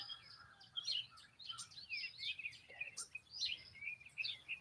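Small birds tweet and chirp outdoors in the early morning, a steady scatter of bright, fairly faint calls and song phrases from several directions with no talking.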